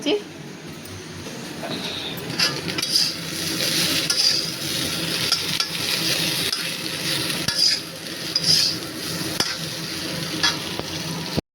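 Cabbage and potato fry in a pan with a continuous loud sizzle, stirred with repeated scraping and clinking of a utensil, while a person talks over it throughout.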